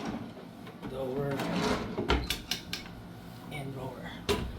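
A drawer in a John Hay Hotels room in Baguio slides and bumps shut with a few wooden clacks and knocks, close by, while a person talks over it.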